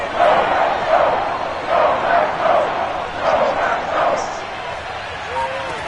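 A football stadium crowd roars ahead of a third-down play, a loud, swelling mass of cheering that pulses in waves, with a commentator talking over it.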